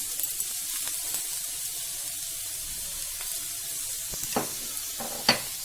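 Onion and green chili sizzle softly in a pan as a utensil stirs them, with a low steady hiss and a few sharp scraping clicks near the end and no talking.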